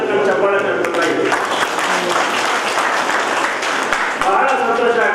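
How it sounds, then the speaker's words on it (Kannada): Dense, sustained applause fills the hall at a Basava Jayanti community celebration in Nagasandra, steady throughout with a voice talking over the clapping. "ನೀವು ಸಹ ಸೇರ್ಕೊಂಡು ಚಪ್ಪಾಳೆ ಕಟ್ಟಬೇಕಾಗಿದೆ"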